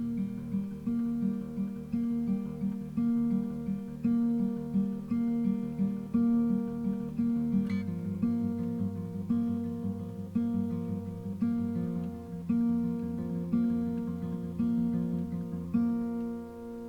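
Acoustic guitar plays the opening bar of a melody: a steady, rhythmic picked pattern of clear ringing notes over sustained low strings, close and moderately loud, with no talking.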